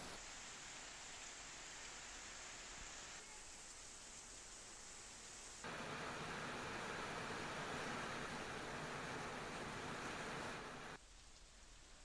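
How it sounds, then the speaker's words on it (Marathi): Monsoon rain falls over Solapur city and district, a dense, continuous hiss of rain that grows heavier in the middle stretch before easing, with no voices. "सोलापूर शहर जिल्ह्यात पावसानं दमदार एंट्री केली आहे।"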